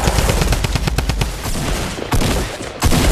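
A minigun firing in Fortnite, loud, rapid bursts of close automatic gunfire with a fast rattling rhythm, broken by short pauses before fresh volleys start up again.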